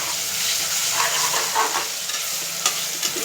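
Spices for vegetable pulao fry in hot oil with a steady sizzle while a spoon scrapes and stirs them in bursts, the sound close and fairly loud with no talking.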